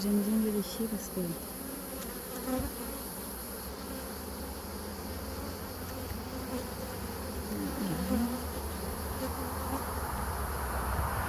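Honeybees hum steadily around an open hive during an early-July inspection, a dense continuous drone that slowly swells, with no talking over it.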